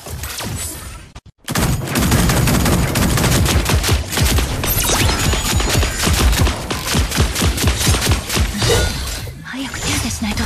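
Rapid bursts of gunfire crackle and shatter in the mech battle game Super Mecha Champions, dense and loud throughout, with game voice lines mixed in.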